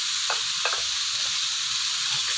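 Chicken spring roll filling with soy sauce, salt, vinegar and black pepper fries in a pan, giving a steady bright sizzle while a utensil stirs it with a few soft scrapes.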